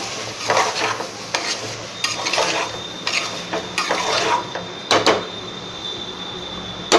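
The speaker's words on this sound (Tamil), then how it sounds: "இப்போ நம்ம சிக்கன் ஆட் பண்ணிக்கலாம். நல்லா மிக்ஸ் பண்ணிக்கோங்க." Chicken and onions being stirred in a cooking pot, with repeated scraping and clattering strokes of a utensil against the metal over a light sizzle, close up and without speech.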